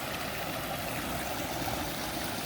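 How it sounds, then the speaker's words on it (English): Water rushes steadily through a man-made, pump-fed stream and waterfall in a permaculture food forest, a dense even wash of flowing water at moderate level with no talking. "walk in the water stream here"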